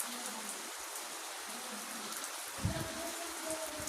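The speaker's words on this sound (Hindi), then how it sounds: "तकरीबन 3 घंटे से ऐसे ही लगातार बारिश हो रही है।" Heavy rain falls steadily in a village, a dense, even hiss close by, with a brief thump partway through and a faint tonal hum near the end.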